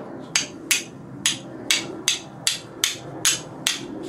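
Fire striker scraped hard against steel, throwing sparks: nine sharp, bright rasping strikes at a steady rhythm, close and loud with no talk.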